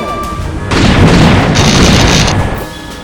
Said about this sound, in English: Photon torpedoes. Target our last known course in speed,